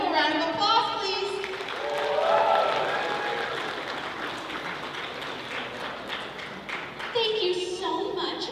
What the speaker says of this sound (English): give her a wonderful round of applause, please